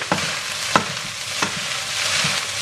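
Fried rice stir-fried in a pan with a steady sizzle, broken by a few sharp scrapes and clanks of the spatula at irregular intervals.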